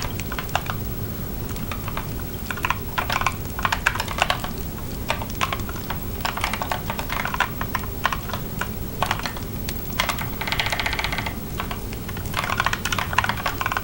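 Rapid typing on a computer keyboard, close and continuous clatter of keystrokes in irregular bursts with brief pauses, no talk.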